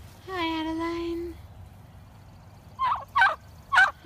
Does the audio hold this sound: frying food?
no